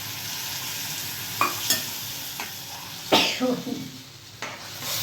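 Rice and spices tempering for yellow masala khichdi, a close steady sizzle with several sharp stirring scrapes and clinks of a spoon against the pot at irregular moments.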